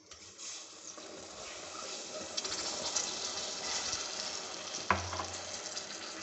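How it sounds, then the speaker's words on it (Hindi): Milk with cream poured into caramelized sugar, a steady sizzling and bubbling that builds after the pour, with a sharp clatter near the end, recorded close and fairly quiet. "चीनी हमारी कैरामल हो गई है, अब मैं इसमें डाल रही हूँ 1 कप दूध और दूध में मलाई भी है।"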